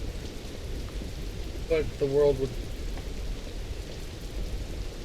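Steady rain with a low thunder rumble runs through a dark, stormy street scene in the video game Welcome to Hanwell, a constant wash under a man's speech.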